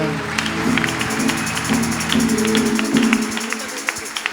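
Congregation at a church service clapping along in a steady rhythmic beat while music plays, the claps moderately loud and regular, ending with a few scattered claps.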